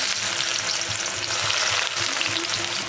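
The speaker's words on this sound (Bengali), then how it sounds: "তেল গরম হয়ে গেছে, একটু চিনি দিয়ে নিচ্ছি, এটা কালার হয়ে আসবে তখন পেঁয়াজ দেবো। এই কুচো পেঁয়াজ দিয়ে নিচ্ছি।" Chopped onion frying in hot oil with sugar gives a loud, steady sizzle with a dense crackle, broken by soft, regular stirring scrapes, and no voices.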